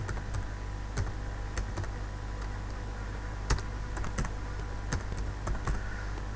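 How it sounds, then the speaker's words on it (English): Computer keyboard keys clicking as an IP address is typed into a browser address bar during Siemens 6520 wireless router setup, a steady run of light close taps over a constant low electrical hum. "type in the IP address of"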